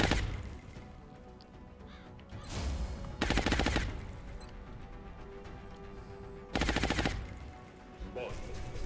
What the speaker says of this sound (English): Still pinned in by all these Overwatch shots.